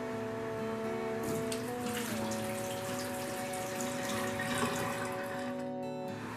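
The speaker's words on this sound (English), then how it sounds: "we're going to pour in the hot Essiac tea" Hot Essiac tea pours steadily from a pot into preheated glass canning jars, a continuous splashing liquid stream with a sustained tonal hum beneath it, fairly close, with no voices.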